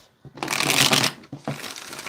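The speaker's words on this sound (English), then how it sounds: "All right, we're going to do 3 more shuffles." Playing cards shuffled for a tarot-style reading: two riffling bursts, a long rustling run followed by a shorter one, close and fairly loud with no talking.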